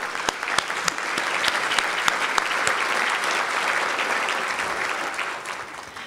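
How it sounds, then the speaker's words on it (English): An audience at a county State of the County address applauds steadily, dense clapping with sharp individual claps near the start, sustained and then gently tapering off. "so let's give them a round of applause"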